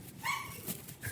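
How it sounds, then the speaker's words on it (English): A dog whines and yelps happily in short high cries when its owner returns home, close and fairly loud, with a few rising whimpers in quick succession. "That is the happy cry of a dog whose mother just came home."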